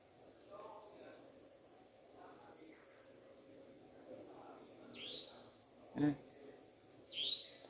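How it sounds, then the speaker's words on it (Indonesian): A couple of short bird chirps ring out over a faint, murmuring background, one sharp call near the end, moderately distant. "dengar suara burung itu?"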